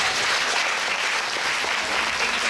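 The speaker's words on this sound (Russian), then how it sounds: "Давайте еще раз их поддержим аплодисментами." Sustained applause from an audience at a children's summer camp concert, a dense steady clatter of clapping filling the whole stretch without pause.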